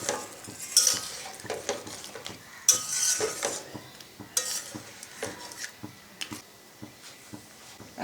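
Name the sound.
adding coconut milk to prawn curry in pan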